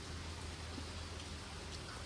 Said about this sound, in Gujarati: વરસાદ સારો એવો આવે છે.